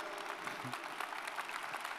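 Church congregation applauding during a sermon, a soft, steady patter of many hands clapping at a moderate distance, fairly quiet and continuous with no voices standing out.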